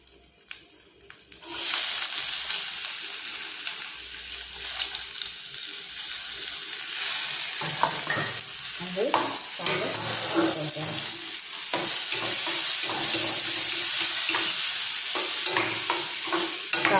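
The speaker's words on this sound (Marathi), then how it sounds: "कांदा व्यवस्थित भाजायला द्यायचा" Chopped onion and garlic frying in a pan while making Malvani dried bombil chutney, a steady sizzle with stirring scrapes, a brief quieter start and then continuous frying noise with intermittent clatter.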